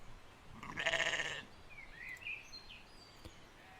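A single loud, wavering sheep bleat lasting under a second, close by, followed by faint chirping calls in a quiet outdoor setting.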